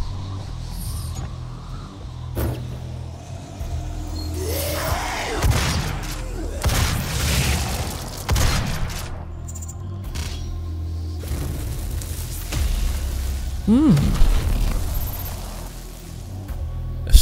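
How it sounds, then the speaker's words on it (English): Super shotgun fired in the video game Doom: a series of loud, heavy blasts with rattling, creaking mechanical reloads between them, set against a low ambient hum, with no one talking. "Super shotgun."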